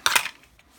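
A metal flange ring goes onto a DeWalt Flexvolt DCG414 cordless angle grinder with a quick pair of close metallic clinks and then a faint scrape, and no one speaks.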